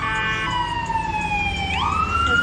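An emergency vehicle siren wails outdoors during a yoga class, its sweeping tones holding steady and then bending downward as it passes at moderate distance, with no talking over it.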